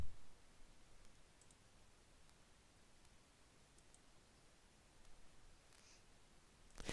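A computer mouse gives a few sparse, faint clicks over a steady low hiss while someone works in an Excel spreadsheet. There is no talk.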